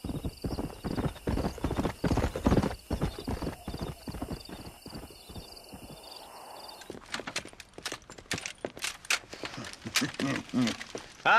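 A stallion's hooves clip-clop in a quick, uneven run, close and loud, easing and then picking up again, with a whinny in the middle and talk now and then.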